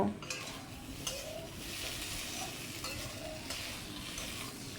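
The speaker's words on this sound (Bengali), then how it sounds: "আমি ভালো করে নেড়ে ছেড়ে চিনিটা আলু কুমড়োর সাথে খুব ভালো করে মিশিয়ে নিচ্ছি" Potato and pumpkin are stirred with sugar in a frying pan, giving a soft continuous sizzle with scraping spoon strokes and light clinks against the pan.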